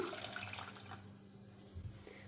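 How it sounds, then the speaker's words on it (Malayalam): Water poured from a cup onto jaggery in a cooking pan, a soft brief splash and trickle, fairly quiet and close, with no talking. "ഇതിലേക്ക് ഒരു കപ്പ് പച്ചവെള്ളം ഒഴിച്ച് കൊടുക്കുകയാണ്"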